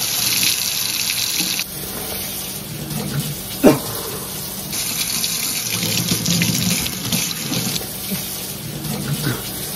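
Water runs steadily from a tap as a metal fork is washed under it, a continuous close splashing stream with one brief sharp clink partway through and faint movement sounds at the sink.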